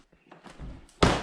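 The front door of an old, damaged house swings shut after a few soft creaks and shuffles, ending in one solid, fairly loud thud close by.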